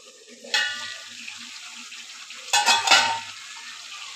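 Chicken being sautéed in a pan, a soft background sizzle broken by two bursts of stirring and scraping, one near the start and a louder cluster later.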